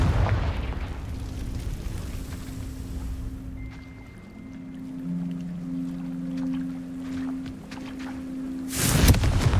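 Confringo fire-spell blasts in Hogwarts Legacy open and close with heavy broadband booms, with quieter tonal game sounds and humming effects in between.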